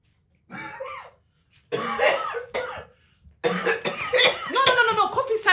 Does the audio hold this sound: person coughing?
yes